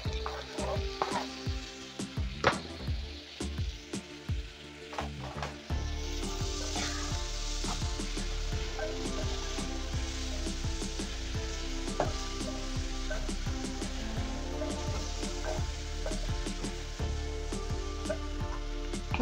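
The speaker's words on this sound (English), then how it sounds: "Let me add the tomatoes." Tomatoes hit softened onions in a hot pan, setting off a loud, steady sizzle that swells after a few seconds of scattered taps and stirring, then carries on evenly and close up.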